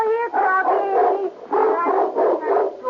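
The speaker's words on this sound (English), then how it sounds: "Doggy! Yes, a Doberman Pinscher." A Doberman Pinscher dog bays and barks in a series of loud, close, drawn-out howling yelps, several in quick succession with short gaps.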